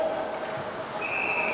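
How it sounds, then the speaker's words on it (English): A referee's whistle at a boys varsity ice hockey game sounds as one sharp, shrill blast in the second half, heard over a steady arena hum with faint crowd noise. "And another whistle."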